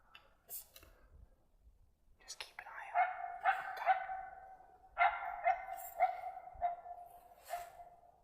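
A dog barks in the distance outdoors during a coyote hunt near a hedgerow: a sharp early bark, then a series of echoing barks and yips in irregular bursts, moderately faint.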